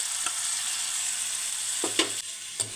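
Finely chopped tomatoes frying with softened onions in a pan, a continuous close sizzle broken by a few spoon scrapes and stirring knocks near the end, no talk.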